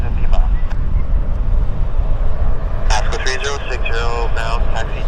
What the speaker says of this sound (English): Flare. Embraer heading to Toronto.